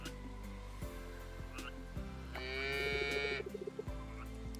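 A cow lows in a video game, one drawn-out moo rising over a quiet game soundscape with soft clicks and thuds around it.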